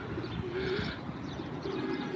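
Racing pigeons coo in a loft, low soft throaty calls repeating close by, with a light chirp or two and a busy rustling background and no talk.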